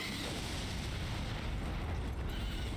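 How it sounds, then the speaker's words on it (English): A video-game explosion rumbles as a sustained, loud low boom with dense crackling debris across nearly three seconds, steady in level with no voices over it. "Let's see if we can lure this one out for the explosion."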